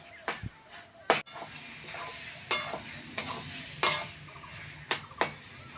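Cabbage chachchari fries in a pan while a spatula stirs and scrapes it, sharp metallic clanks and scrapes repeating every second or so over a soft continuous sizzle, close and clear.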